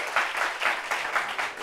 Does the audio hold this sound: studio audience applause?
yes